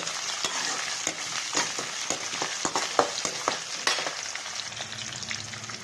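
Chopped onions hitting hot oil and frying on a high flame for poha, a steady loud sizzle broken by repeated sharp stirring clatters against the pan, with no voices.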